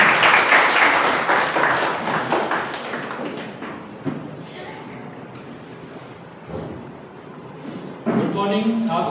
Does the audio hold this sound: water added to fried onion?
no